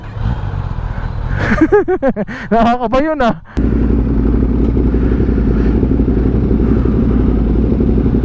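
A brand-new 2023 Kawasaki ZX-10R KRT edition with a hard-starting fault cranks with a rapid warbling starter churn for about two seconds, cuts briefly, then catches into a steady, loud idle, a person speaking briefly over it.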